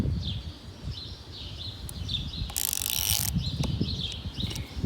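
A socket wrench with an extension and 8mm socket ratchets on a Honda CB300R motorcycle, giving rapid close clicking bursts over a low steady background rumble, with one louder, denser burst near the middle.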